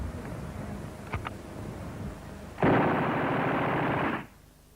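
Owen submachine gun fired in a single sustained automatic burst of about a second and a half during 1941 service tests, loud and close, preceded by a couple of faint sharp clicks over steady background noise.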